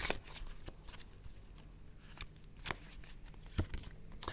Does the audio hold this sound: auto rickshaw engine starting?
no